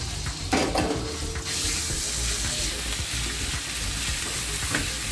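Green curry paste stir-fried in a pan for Thai chicken green curry, a steady loud sizzle with scraping stir strokes running throughout, close and without talk.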